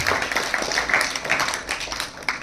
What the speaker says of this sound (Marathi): जोरदार टाळ्या वाजवून त्यांचं आपण एकदा स्वागत करूया